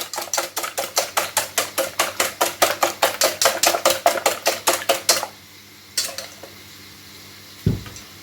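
A spoon clacks rhythmically against a bowl, stirring ingredients for a sausage and carrot quiche in quick even strokes for about five seconds, followed by a couple of isolated knocks and a final clunk.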